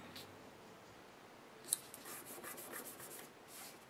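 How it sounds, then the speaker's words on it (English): Quiet snipping and rustling of scissors trimming paper for a stamped card, several soft cuts in a loose rhythm with one sharp click, close and faint. "And then I'll use my scissors to trim it down."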